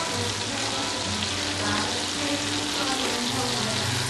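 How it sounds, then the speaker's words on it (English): Continuous soft sizzling hiss of butter frying in a pan, steady and close, with no talking. "Alright, my butter is sizzling."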